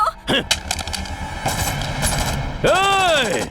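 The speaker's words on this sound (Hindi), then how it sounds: "घड़ी के कांटे की तरह गोल गोल घूमकर गोलियां चला रहा है।" Gunfire in an action movie scene dubbed in Hindi: a rapid burst of shots rings out beneath a music score, ending in a loud swooping effect.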